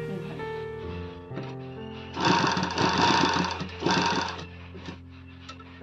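Sewing machine stitching the pleats of a long frill sleeve: a low hum with soft starts, then a loud, close run of fast stitching in two bursts before it settles back to a quiet idle.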